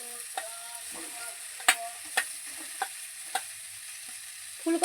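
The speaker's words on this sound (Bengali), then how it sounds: "ফুলকপি দেওয়ার পরে ফুলকপি আর আলু খুব ভালোভাবে কিন্তু মশলার সঙ্গে কষিয়ে নিয়েছি" Cauliflower and potatoes sizzle gently in a pan with spices for a Bengali fish-and-cauliflower curry, with a steady frying hiss broken by several sharp scrapes and clinks of a spatula stirring, close by and without talk.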